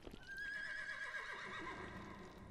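A horse whinnies in the video game The Frostrune, a single long, wavering neigh with hoof clip-clops beneath it, heard quietly and alone.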